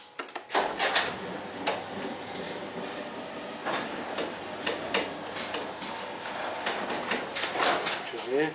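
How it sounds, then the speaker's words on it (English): A sectional overhead garage door rattles and clicks as it rolls upward, with repeated ticking and sliding mechanical noise throughout and a person talking over it. "Raise the garage door so we can see the bottom wire hanger."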